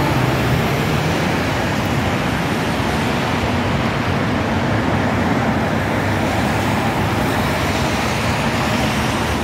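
Steady, loud roadway roar at a busy Hong Kong bus stop served by KMB and Citybus buses, engines idling and passing close by in a constant wash of traffic noise.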